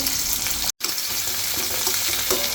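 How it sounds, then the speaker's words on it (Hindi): Finely chopped onion frying in oil with cumin seeds: a continuous, close hiss and sizzle with light stirring, cut by a momentary silent gap early on. "हल्का सा प्याज को फ्राई करना है, बारीक बारीक प्याज काट लिया"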